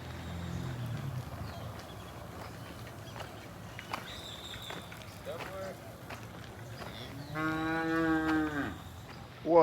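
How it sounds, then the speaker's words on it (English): A herd of cattle walking along a rural road in El Salvador: one loud, drawn-out moo rises near the end, with softer lowing and scattered hoof sounds before it. "I've got to get past this herd of cattle walking on the road."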